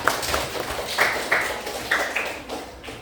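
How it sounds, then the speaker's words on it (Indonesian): Scattered clapping from a small class in a room after a student group's presentation, a few uneven, sparse claps rather than full applause, with no voices over it. "Kita kasih tepuk tangan untuk kelompok asli semua."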